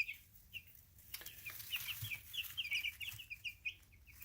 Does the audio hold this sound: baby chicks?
yes